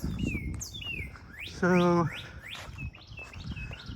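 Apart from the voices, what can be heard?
birds chirping in the woods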